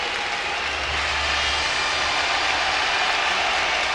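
A big, sustained crowd roar rises from the right-field stands at a Chiba Lotte Marines baseball game, a dense wash of cheering that swells steadily across the whole stretch.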